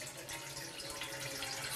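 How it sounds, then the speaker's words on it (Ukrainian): Steady broadband rush of clear-looking water pouring from a kitchen tap in a village home, continuous and close, with no voices over it. "Першого погляду з крана тече звичайна чиста вода."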